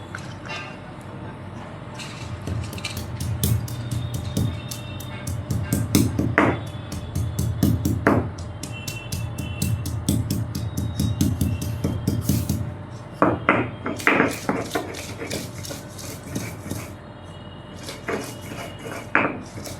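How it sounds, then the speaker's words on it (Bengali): Ginger and green chilli are ground on a grinding stone in a kitchen, a steady rhythm of close, sharp stone-on-stone rubbing and knocking strokes that carries on throughout, with a voice briefly heard. "আদাটাকে আগে বেটে নিচ্ছি, আদা আর কাঁচা লঙ্কা"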